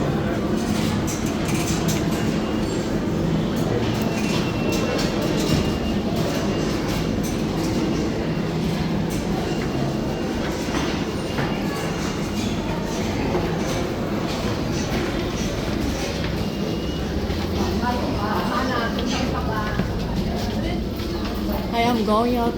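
A New York City 7 train subway station at Flushing, with a continuous rumble of rail and station noise, some squeals and clatter, and people talking under it.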